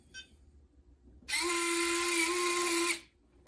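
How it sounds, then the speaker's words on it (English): An electric retract unit on an E-flite Viper RC jet pulls up the landing gear with a single high motor whine of about one and a half seconds, close and loud, stopping abruptly, after a brief faint click. "we'll retract the gear one more time"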